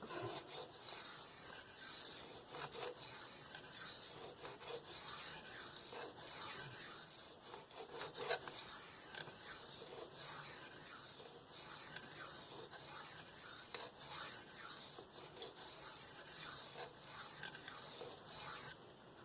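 A Spyderco PM2 knife with S30V steel is drawn across a DMT diamond stone in steady repeated rasping strokes, a faint close scraping rhythm that continues with no voices.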